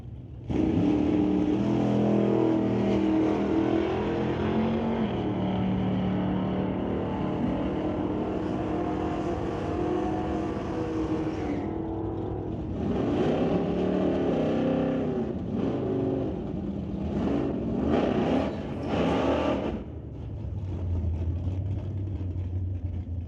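A Dodge Challenger and a Vega launching in a drag race, a loud sustained engine roar building and holding, then rapid revving bursts and gear changes as the cars pull away.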